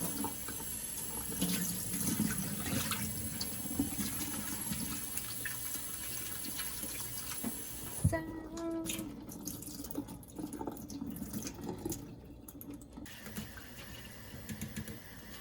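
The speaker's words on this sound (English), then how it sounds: "So we're going to wash the shrimp before we boil them" Running tap water splashes steadily over shrimp in a strainer, moderately loud and close. The flow changes partway through, when drips and clatter come through a thinner stream.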